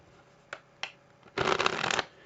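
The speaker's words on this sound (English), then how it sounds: "The cover from the hands makes a big difference on what this shuffle looks like." Playing cards handled in a strip-cut false shuffle: two quick, light card taps, then a half-second burst of rapid riffling card noise, close and crisp, with no talking.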